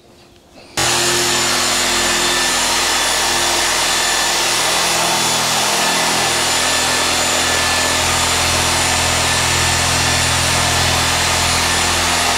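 A random orbital polisher fitted with a mop starts up and runs continuously on the bonnet of an MGF, its motor whirring loud and steady with a constant buffing hum.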